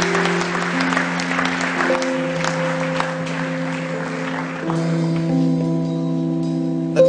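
An audience claps steadily after a speech, a dense patter of hands that continues for several seconds under a steady tonal hum from the room.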